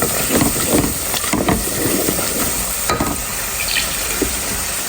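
Beef curry with jackfruit and a little turmeric is stir-fried in a pan, making a loud, continuous sizzle with scraping stirring strokes, close up and uninterrupted.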